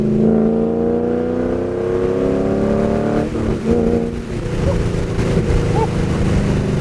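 A Chevrolet Corvette C5 V8 with long tube headers, an X-pipe and no mufflers roars loudly and steadily close by, revving through rising harmonic tones with a rough, raspy exhaust note, and a brief voice comes through partway.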